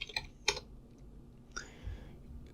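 Several quick keystrokes on a computer keyboard, close and crisp, in two short bursts with a pause between them and a quiet room behind.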